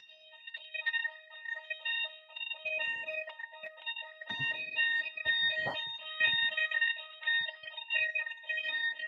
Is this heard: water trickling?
no